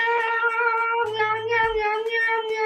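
A voice imitates a cat's meow, one drawn-out, tonal, clear and close, heard alone with no other sound.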